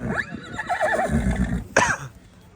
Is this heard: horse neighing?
yes